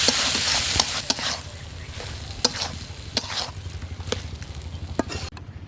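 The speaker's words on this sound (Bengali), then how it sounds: "ডালটা এবার মশলার সাথে ভালো করে কষিয়ে নেব।" Boiled masoor dal is stirred and fried with spices in a pan, a loud, steady sizzle broken by repeated scraping strokes of the spoon.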